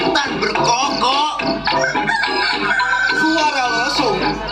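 A rooster crows in a staged performance of the Mount Kelud legend, a loud, drawn-out cock-a-doodle-doo repeated several times over a low hum, with a voice that may be imitating the call.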